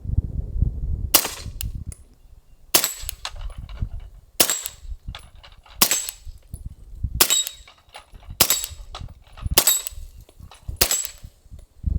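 Pistol shots fired into dirt with a Glock 19X, Beretta M9A3 or Sig Sauer M17 P320, eight sharp loud reports spaced about every one and a half seconds outdoors, each followed by a short ringing tail.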